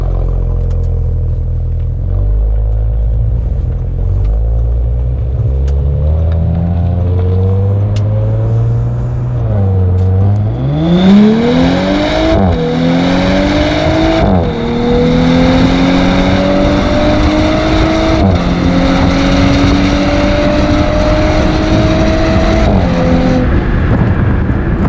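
Audi S5 with a 354 hp engine accelerating hard on a performance run, idling low then revving up through several computer-controlled gear shifts, each shift a brief dip before the engine note climbs again, loud and close.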